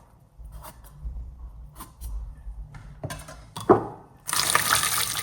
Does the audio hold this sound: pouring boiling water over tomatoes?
yes